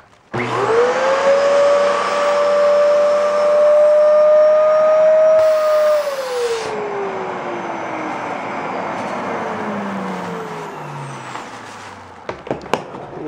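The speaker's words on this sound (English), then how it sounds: "You got to make sure this nozzle on the vacuum cleaner is right up next to the cushion" A vacuum cleaner with its nozzle pressed against couch cushion foam sealed in a plastic bag, sucking the air out: a loud, steady rising whine for several seconds that then drops in pitch and winds down, ending with a few sharp clicks.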